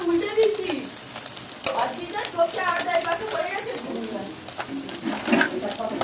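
Mustard paste sizzling in a hot pan on a home stove, frying loudly with scraping stirs, while a voice talks over it and a bird calls faintly in the background.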